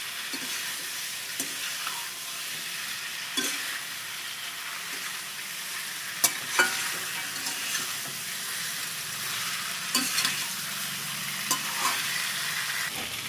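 Taro and snakehead fish are sautéed in a pan, with a steady sizzle running throughout. Scattered scraping and stirring knocks sound up close, and no one talks.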